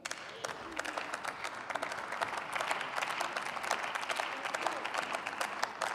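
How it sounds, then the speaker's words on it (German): Applause in the German Bundestag, a sustained round of clapping from many hands in a large chamber, steady and moderately loud for the full stretch. "Applaus"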